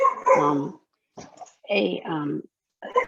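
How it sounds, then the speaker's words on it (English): A dog barks in short repeated bursts, close and fairly loud, with gaps of quiet between barks. "sorry, my dog is barking"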